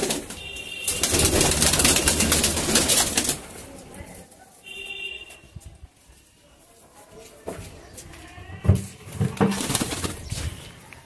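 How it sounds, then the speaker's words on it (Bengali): Pigeons in a newly built loft coo and flutter just before feeding with grain, calls rising and fading in bursts, with voices talking in between. "এবং পায়রাগুলোকে এখন দানা দেওয়া হবে।"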